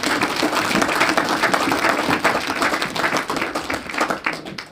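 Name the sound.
congregation hand clap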